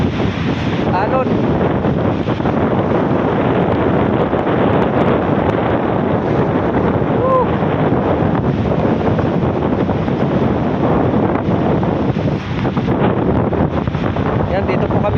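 Strong wind buffets the microphone with a constant roar, and heavy ocean surf rumbles steadily underneath at a beach resort in Balingasag, Misamis Oriental, loud and close throughout.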